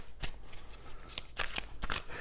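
Tarot cards being shuffled and drawn, a quick series of crisp riffling and flicking bursts in an irregular rhythm, close and fairly quiet with no talk.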